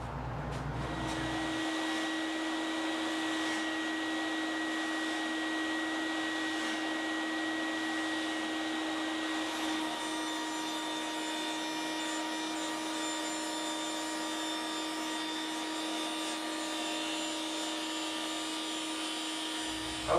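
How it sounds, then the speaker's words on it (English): A table saw blade slowly raised up through the base of a wooden crosscut sled, a steady loud whining hum with a sustained tonal drone that holds for the whole stretch, shifting slightly partway as the blade breaks through. "slowly raise the blade up until it cuts through this base"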